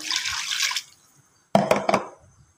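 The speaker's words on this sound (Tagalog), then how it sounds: "Lagyan natin ng tubig." Water is poured into a cooking pot holding lemongrass, a splashing pour that stops, then after a short pause a few more brief splashes and drips close by.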